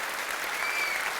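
A large audience claps steadily at a patriotic poetry recital honoring martyrs, the applause forming a dense, sustained roar that fills the whole moment without any voice on top.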